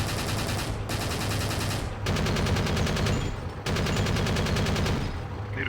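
Tank machine gun in Forgotten Hope 2 firing long, rapid sustained bursts, loud and close, separated by a couple of brief pauses.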